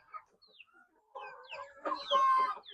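Free-range country chickens cluck and chatter softly while pecking at feed, with scattered low calls building into a louder, busier cluster of clucks near the end.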